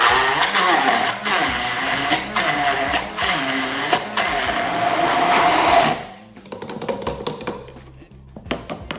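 A blender whirs loudly and steadily for several seconds blending tomatoes and garlic, then cuts off, leaving scattered taps and clatter.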